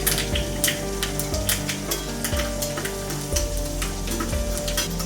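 Mustard seeds and urad dal fry in hot oil for vatha kuzhambu, a dense, loud, continuous sizzle peppered with sharp crackling pops, close up and with no voices.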